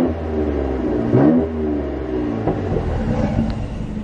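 A car engine in sport plus mode revs up, rumbling and climbing in pitch nearby, then settles back to a steady idle.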